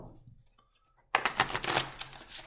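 A deck of game cards gets riffled and shuffled, a quick burst of dense papery flutters starting after a near-silent pause and carrying on in rapid bursts close by, with no one talking.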